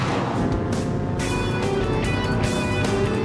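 A BMW 535d E60 diesel saloon drives on a test track, its engine a steady, subdued hum with some tonal whine, fairly quiet and smooth throughout.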